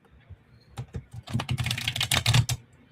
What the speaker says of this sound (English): No, shuffling a deck of cards.